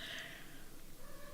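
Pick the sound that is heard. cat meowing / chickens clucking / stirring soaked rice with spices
cat meowing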